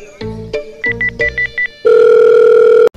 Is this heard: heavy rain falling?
no